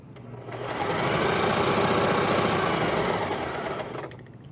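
A sewing machine stitches a fabric cap in one continuous run of a few seconds, its rapid mechanical whirring and ticking rising in at the start, holding steady, and tapering off at the end, close and unaccompanied by speech.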